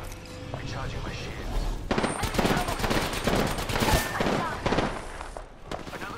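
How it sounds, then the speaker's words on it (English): Rapid gunfire bursts and a heavy thump crackle in a firefight in the battle royale game Apex Legends, loud and dense over a background of game sound, with brief speech mixed in. "Taking fire."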